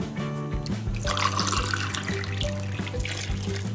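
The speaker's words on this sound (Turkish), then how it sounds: "Şimdi yavaş yavaş suyumuzu ilave edelim." Water trickles and splashes gently into flour in a bowl while dough for a Sarıyer börek is mixed by hand; soft, close, irregular pouring with small drips, no voices.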